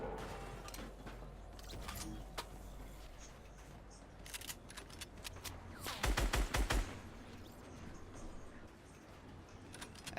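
Gunfire in a video game battle during a scrim match: a quiet bed of game sound with scattered single shots, then a loud, rapid burst of several shots just past the midpoint, followed by a few more sparse cracks.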